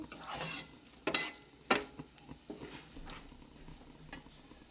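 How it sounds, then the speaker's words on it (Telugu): Quiet frying of a spice tempering with dried red chillies in a pan, punctuated by several sharp clinks and scrapes of a spoon against metal as the contents are stirred. "ఎండుమిర్చి వేసిన తర్వాత ఎంత 1 మినిట్ అయితే చాలండి, వేగిపోయింది. పోపు అయితే వేగిపోయింది."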